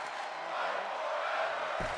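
Arena crowd noise from a WWE 2K23 wrestling match during a submission hold, a steady broad roar of cheering voices that stays loud and even throughout, with a brief low thump near the end.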